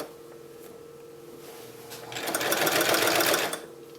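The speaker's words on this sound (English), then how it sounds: "we're just going to sew a 1/4 inch seam allowance" A sewing machine stitches a quarter-inch seam on a house-shaped decorative pillow, a faint hum at first that swells into a steady, rapid whirring run of stitching for about a second and a half, then stops.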